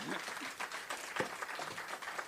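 An audience applauds a guest author at a book-signing event. The clapping is moderately faint and continuous, with voices mixed in.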